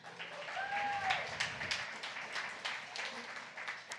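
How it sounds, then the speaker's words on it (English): Audience at a Central Oregon pub talk giving speaker Russell another round of applause, a fairly faint, continuous patter of clapping with a brief tonal sound near the start. "How about another round of applause for Russell?"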